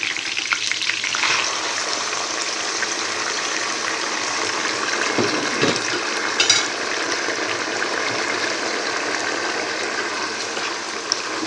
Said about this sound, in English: So I'll just stir it